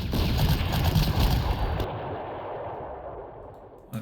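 Artillery fire in the Panzer Corps wargame at El Alamein: a dense, loud barrage of booming shots for about two seconds, then a long fading rumble and echo with a faint thump at the end.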